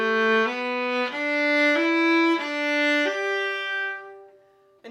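Solo viola playing the opening of Humoresque from Suzuki Book 3 as even 16th notes, a short series of smooth, connected bowed notes stepping up and down, close and clear with a gentle fade at the end.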